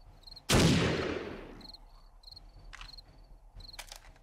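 A single loud gunshot rings out in 7 Days to Die, with a sharp blast that decays over about a second, then a few faint clicks and rattles against a hiss of insect-like background noise.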